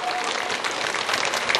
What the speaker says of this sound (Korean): 한번 주께 영광의 박수 한번 돌리십시다